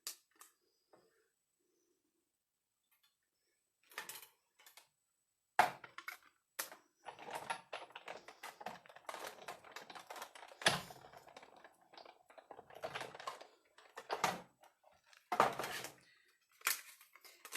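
Paper cut out by hand with scissors, heard as scattered clusters of crisp snips and rustles, close and quiet, separated by silent pauses and growing busier toward the end, with no talking.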